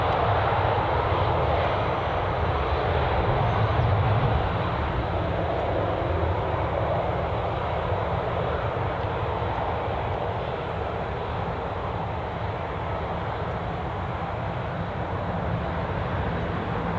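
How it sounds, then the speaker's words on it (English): A Ryanair airliner's jet engines roar steadily as it begins its takeoff roll at Newcastle International Airport, a loud, continuous broadband rumble that holds throughout without a break. "Ryanair is now ready to roll."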